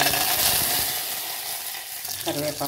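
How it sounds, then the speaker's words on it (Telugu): Mustard seeds, cumin and curry leaves tempering in hot oil for a palak paneer curry, giving a steady close crackling sizzle with some stirring that swells again near the end. "కొంచెం ఆవాలు, కొంచెం జీలకర్ర, చిటపట అంటున్నాయి కదా"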